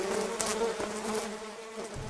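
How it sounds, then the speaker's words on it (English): Bees buzz in a steady, droning hum for a couple of seconds, a close, continuous insect whine used as a story sound effect. "bees, which they hated"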